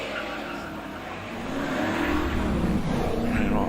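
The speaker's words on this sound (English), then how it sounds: "we see going off the line Peter Ash in the TVR Griffith 500" At the Prescott hill climb, a TVR Griffith 500 race car launches off the line, its engine note rising and swelling from a moderate distance over faint background ambience.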